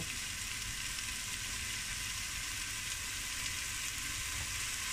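Steady, crackling sizzle of mushrooms frying over high heat in rendered fat, continuous and close, with no voices over it.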